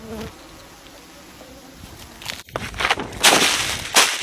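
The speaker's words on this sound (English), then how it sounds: "Guards are a small number of bees who stand guard at the entrance of the beehive." Honeybees buzz steadily in a dense swarm, with louder swells and rustling bursts as guard bees move close to the hive entrance.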